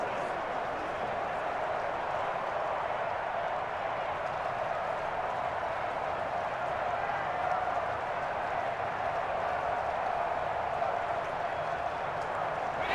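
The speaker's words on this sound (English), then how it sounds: "the crowd getting into it as we come up on a big 3rd down" A football stadium crowd at a 2021 NFL game between the Chicago Bears and Cleveland Browns keeps up a steady, distant roar in the fourth quarter ahead of a big third down.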